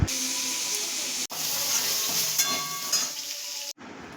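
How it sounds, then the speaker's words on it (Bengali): Potatoes fry in hot oil in a kadai over medium heat, giving a dense, even sizzle close by, briefly cut off twice. "তেলটা গরম হলে আলুগুলো আস্তে আস্তে মিডিয়াম আঁচে দিয়ে লাল করে একটু ভেজে নেব"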